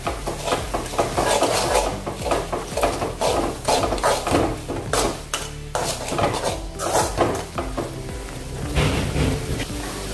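Spices are stirred into a cooking pan for Kathiyawadi sev ki sabji, a spicy Gujarati curry, with repeated scraping and clanking of a utensil against the pan over a light sizzle, close and fairly loud.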